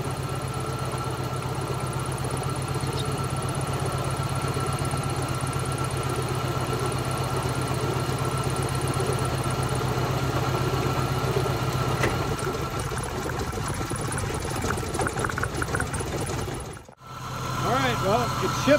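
A 1991 Volkswagen Jetta with an automatic transmission runs steadily while being shifted into gear, its engine drone continuous and fairly loud for most of the stretch before a brief dip near the end, with a voice speaking over it.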